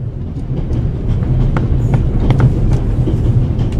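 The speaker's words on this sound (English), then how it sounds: "The noise on this train is driving me crazy." A train on the Orient Express running through the Alps in The Raven video game, a loud, steady low rumble with rhythmic clicking of the wheels, continuous and close, with no talking.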